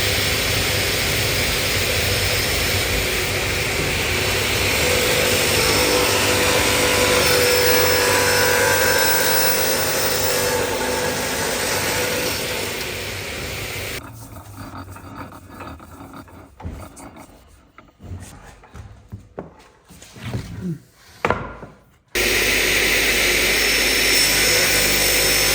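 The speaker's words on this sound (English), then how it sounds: "We'll get that mounted on the saw." A power saw cuts a 45-degree mitre on the corner of a wooden front door frame piece, a loud steady rasping drone for about fourteen seconds that then breaks into sputtering, uneven bursts before cutting out.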